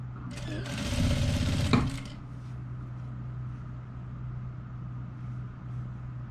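A sewing machine stitches the front of a nightgown in one short, close burst of rapid needle whirring lasting about a second, then stops, leaving a steady low hum while someone talks.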